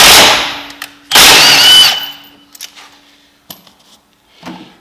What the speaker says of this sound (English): we're going to take a 15 millimeter and take off the bolt of the secondary clutch